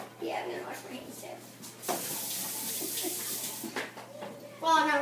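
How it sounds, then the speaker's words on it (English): Tap water runs steadily as hands are rinsed under it, a close hissing splash that holds for several seconds while people talk over it. "I'm going to wash my hands"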